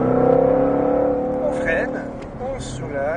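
Ford Mustang Shelby GT500 (760 hp) accelerating again on a race track, a loud steady engine drone with rising harmonics, while an instructor's voice talks over it.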